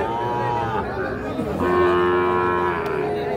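A Sahiwal bull calf about five to six months old moos repeatedly, loud and close, with drawn-out lowing calls amid the busy background of a rural cattle market.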